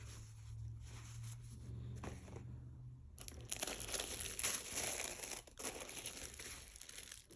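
Dior dust bags and tissue paper rustle and crinkle continuously during the unboxing of Dior D-Way slides. The sound is soft and close, growing busier and louder halfway through.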